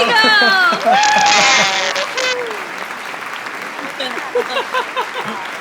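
Studio audience applauding and cheering for guests on a chat show, a loud burst of clapping and whoops in the opening seconds that thins out into scattered chatter and voices.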